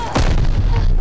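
A single heavy weapon shot fired at enemy recon in a video game, a loud close boom with a low rumbling tail that fills the rest of the moment.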